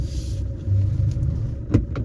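A car moves slowly along a snowy road in first gear, a low steady engine and tyre rumble with a couple of soft knocks near the end, close by and with no speech.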